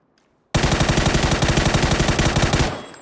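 Sustained automatic fire from an M4 rifle in the video game PUBG on PC, a loud rapid burst of evenly spaced shots lasting over two seconds, then a short ringing tail.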